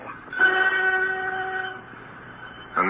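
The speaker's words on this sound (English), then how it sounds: "A night train to Norwich." A night train to Norwich passes as a radio drama sound effect, its horn sounding a sustained chord for over a second amid rail rumble, then fading before a short bright burst at the end.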